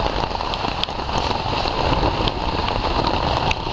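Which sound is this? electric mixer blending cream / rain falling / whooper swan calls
rain falling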